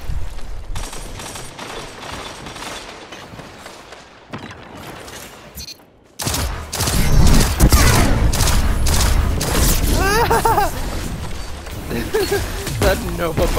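Rapid gunfire and booming explosions from a Destiny 2 Beyond Light multiplayer match, with sustained bursts after a brief near-silent gap, loud and dense, with energy-weapon whines layered in.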